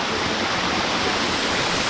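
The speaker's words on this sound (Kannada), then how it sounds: "amazing water fall" Kuli Magod falls near Yellapur roars as a loud, unbroken rush of falling water, running at a light flow, close and steady with no voices.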